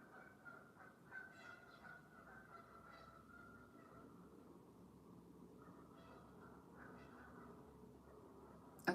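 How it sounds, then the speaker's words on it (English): Geese honking in the distance, faint repeated calls in an irregular rhythm over quiet outdoor background, with no speech. "Do you hear the geese?"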